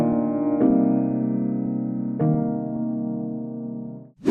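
Soft lo-fi piano plugin tone with reduced noise and saturation, two sustained chords struck a couple of seconds apart and left to ring warmly, close and alone before fading out.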